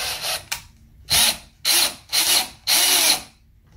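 Power drill whirring in four short, loud bursts with brief pauses between them, driving into the wooden frame of a wobbly bunk bed, with faint rubbing and a clack before the first burst.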